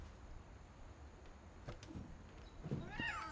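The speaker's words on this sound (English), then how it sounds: "Heard a cat." A cat meows faintly in What Remains of Edith Finch, with a couple of short rising cries near the end over a steady game ambience, no talking.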